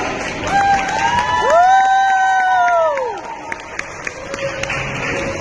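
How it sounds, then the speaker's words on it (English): A school audience watching a second-grade jungle-themed skit lets out a long, rising and falling whooping cheer, followed by a few scattered claps and murmurs as the noise settles. "Give them a loud jungle style cheer."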